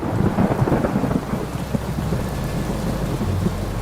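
Steady heavy rain pours down with a low, rumbling roll of thunder underneath, loud and continuous with no voices, in Sullia, Karnataka.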